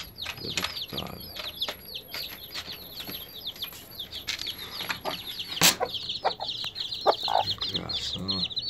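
Chickens cluck and chatter in a small backyard coop, with repeated close, sharp calls scattered across the clip, occasional louder squawks and wing rustles, and faint background noise.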